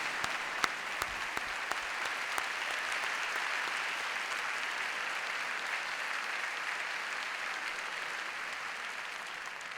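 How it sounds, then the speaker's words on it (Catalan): Sustained applause from a large audience at an international band competition in València, a dense steady wash of clapping that holds evenly for about ten seconds with a few sharper individual claps early on, at moderate distance and with no voices over it. "Un aplaudiment molt fort."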